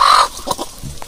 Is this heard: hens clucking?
yes